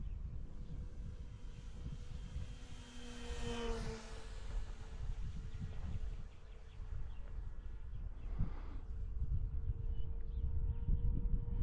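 A small three-channel radio-controlled model P-47 propeller plane drones overhead, its engine pitch rising and falling as it passes, over steady wind noise outdoors on a windy day.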